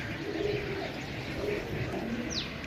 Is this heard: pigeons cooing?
yes